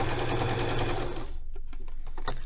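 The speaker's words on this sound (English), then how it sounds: "I like to sew real close to the edge" A sewing machine stitches a hem on a sleeve of a woman's top, running in a steady, fast mechanical whir before slowing into a few separate clicking stitches.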